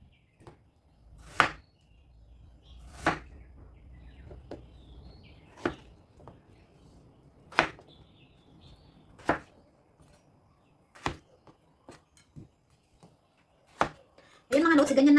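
Knife chopping daikon radish on a cutting board: sharp, evenly spaced single cuts roughly every one to two seconds, close and clear, with a burst of louder clatter at the end.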